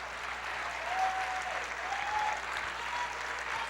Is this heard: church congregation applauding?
yes